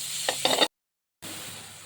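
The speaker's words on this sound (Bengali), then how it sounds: "এবার চিকেনটা আমি এই তেলেই নেড়ে নেব বেশ ভালো করে" Chicken pieces stirred in hot oil in a pan for homemade chicken patties, a close sizzle with a couple of scraping stirs, then a brief cut to silence before the frying hiss resumes.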